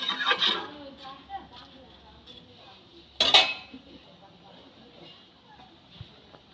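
A spoon stirs cauliflower stalks into masoor dal in a metal pot, giving a few close clinks and scrapes, with a louder clatter midway and quiet rubbing in between while someone speaks.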